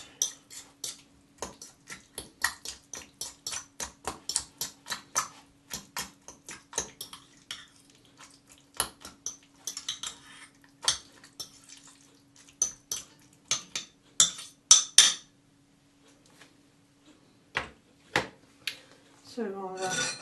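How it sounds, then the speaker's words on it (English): Fork mashing cooked carrot soup in a pot, a long run of quick metallic taps and clinks, sometimes rapid and sometimes sparse, close and fairly clear, with a voice briefly at the end. "I usually mash it down a bit with a fork first before I put the blender in"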